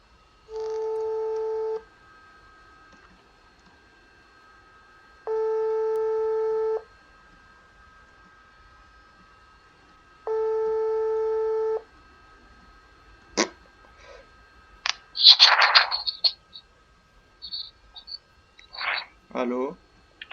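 A phone busy signal in the Roblox game Mad City beeps three times as steady tones about five seconds apart, then gives way to short bursts of a voice.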